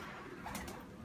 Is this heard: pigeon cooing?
yes